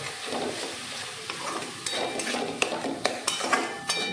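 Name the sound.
tomato paste being stirred and fried with spices in a pan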